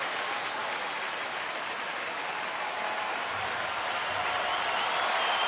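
A crowd of nearly 40,000 at a Rangers baseball game against Detroit cheers and applauds in a dense, sustained roar that grows slightly louder toward the end.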